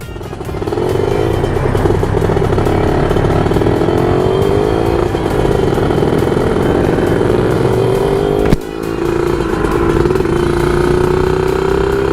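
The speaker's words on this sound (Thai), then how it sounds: "ลองเบิ้ง" A Kawasaki KR two-stroke motorcycle revs loud and close, its engine note rising and sliding in pitch over a steady roar, with a brief dip near the end before it picks back up.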